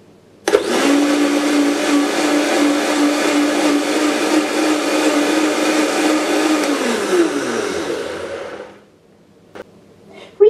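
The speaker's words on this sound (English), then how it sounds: "Cover blender with lid and beat at low speed for approximately 5 seconds." An electric blender whirs loudly at low speed, beating chocolate coconut eggnog ingredients for several seconds after a sudden start, its motor pitch dropping as it winds down to silence, followed by a faint click.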